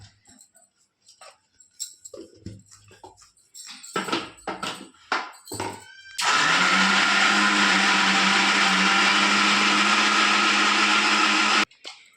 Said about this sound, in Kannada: ಇದನ್ನೆಲ್ಲ ಮಿಕ್ಸಿ ಮಾಡ್ಬೇಕ್ರಿ.